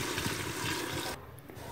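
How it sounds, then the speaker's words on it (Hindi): Water pouring into a pressure cooker of browned meat in a home kitchen, a steady rushing splash that runs for about a second and then drops to a quieter trickle, with no talking. "पानी डाल रही हूँ मैं इसमें"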